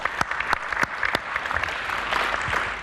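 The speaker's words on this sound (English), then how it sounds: "That's the applause." Applause from a conference audience at a water diplomacy event: a few separate claps at first, then a dense, steady patter of many hands clapping together, fairly close and with no talking.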